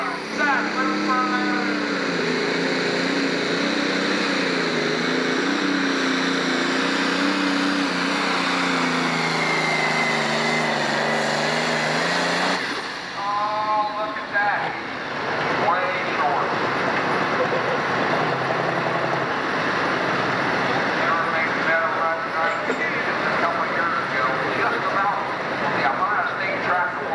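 A 10,000 lb pro stock pulling tractor makes a run at the 1998 Ohio State Fair, its engine roaring loud and sustained with a sharp drop in pitch midway, then continuing rough and throaty while an announcer talks over it.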